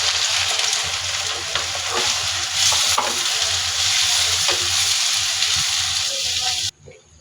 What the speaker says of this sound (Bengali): এখন একটা তেজপাতা, তেলের ভিতরে পেঁয়াজ